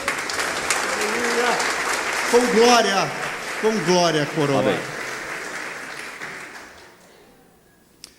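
A church congregation at a Sunday service claps together in a steady, sustained round of applause while a leader speaks and sings exclamations over it, the clapping fading out toward the end.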